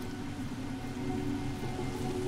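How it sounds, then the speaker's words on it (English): Steady rain falls in the martial-arts action game Sifu, a dense even hiss of drops on surfaces with low rumbling underneath, constant and close throughout. "Let's bathe in the rain a little bit."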